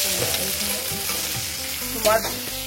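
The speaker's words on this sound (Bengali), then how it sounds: "পটল আলু ভাজা করছি" Pointed gourd and potato pieces fry in a pan with a steady hiss of hot oil, broken by a few scraping stirs, close and continuous with no talking.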